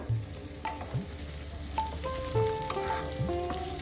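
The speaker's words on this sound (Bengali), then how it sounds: "চালটা ভালোভাবে এই ঘিয়ের সঙ্গে ভেজে নিতে হবে।" Rice grains frying in ghee in a pan for Basanti pulao, with a steady close sizzle and a few soft scrapes and clinks of a spoon; no one speaks.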